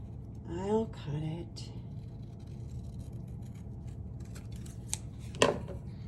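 Scissors cut through paper for a spring floral journal, with a couple of crisp close snips near the end after someone speaks briefly at the start.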